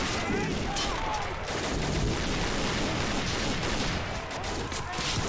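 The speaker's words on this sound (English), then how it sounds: "I'm loving the sound of these M14s." Dense, continuous video-game gunfire crackles with overlapping M14 rifle shots and distant booms, a sustained firefight with no pauses.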